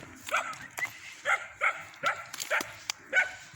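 Rapid, regular dog barks, about eight in quick succession, close and fairly loud against a quiet background.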